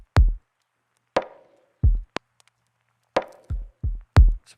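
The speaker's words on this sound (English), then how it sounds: "So I've just penciled in a quick kick and snare combo that sounds like this." A soft, subby kick and snare combo in a sleepy lofi hip hop beat plays sparsely, with deep kick thumps alternating with short snare hits in a slow, minimal groove and clear silence between them.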